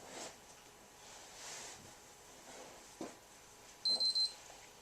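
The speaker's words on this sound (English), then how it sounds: "You just let it copy the file over and then it should beep twice." A PlayStation 3 emits a few short, high electronic beeps in quick succession over a faint room hiss near the end, after copying an OtherOS file from a USB drive.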